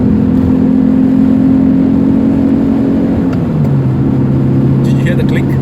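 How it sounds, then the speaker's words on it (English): A 1990 Toyota Corolla SE 1.6 engine drones steadily while driving, loud and close, its pitch dropping partway through as the car shifts gears and then settling into a lower hum. "Want to hear the engine sound?"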